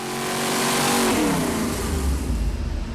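A Chevy 454 V8 engine runs on a dyno, revving loudly and steadily upward in a close, continuous roar with no voices.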